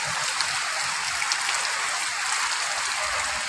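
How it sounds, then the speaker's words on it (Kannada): Steady, dense rain pours down, a continuous hiss of drops on surfaces with no pauses. "ನಿನ್ನೆ ನೈಟಿಂದ ಸ್ಟಾರ್ಟ್ ಆಗಿದೆ ಜೋರು ಮಳೆ"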